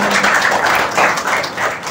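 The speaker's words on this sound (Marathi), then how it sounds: "जोरदार टाळ्या वाजवा जरा." An audience at a school event in Sindhudurg, Maharashtra claps in a brief, steady burst of applause, moderately loud and close, with no talk over it.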